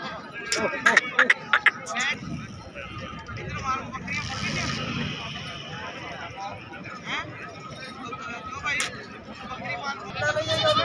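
Goats bleating at a crowded livestock market for sacrificial goats, with scattered clip-clop and sharp calls over a constant babble of many voices talking nearby.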